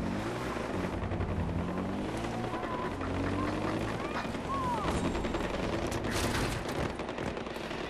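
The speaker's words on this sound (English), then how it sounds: "What the fuck, I hear gunshots." Gunfire in the Far Cry 4 video game cracks out as a few distant bursts, faint under a constant game backdrop of engine and ambient noise.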